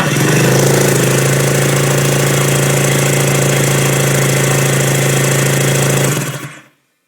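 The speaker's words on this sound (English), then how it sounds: "turn the engine over" A Kawasaki JS440/JS550 jet ski engine cranks and runs with a steady, rumbling mid-pitched drone, loud and close, for several seconds before abruptly cutting off.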